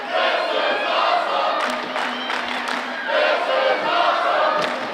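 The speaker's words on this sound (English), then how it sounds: "Crowd loving every second of the action here in the Scottish Rite Temple, chanting, "This is awesome."" Wrestling crowd at the Scottish Rite Temple roaring and chanting in rhythmic unison, loud and dense, with rising bursts of cheering and whoops over a sustained wall of voices.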